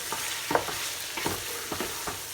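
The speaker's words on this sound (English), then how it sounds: "on a high heat, I'm going to cook the chicken in this masala and brown the meat." Chicken pieces browning in masala in a pot over high heat, giving a steady close sizzle with several scraping stirs at an uneven pace.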